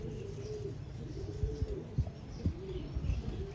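Rare pedigree pigeons coo softly on a rooftop loft in Sialkot, a steady low murmuring punctuated by a few short wingbeat-like taps and scattered chirps, with no talking.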